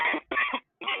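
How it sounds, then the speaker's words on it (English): Someone coughs three times into an open microphone during an online debate call. The coughs are short, raspy and moderately loud, with a brief silence before the last one. "Coughing?"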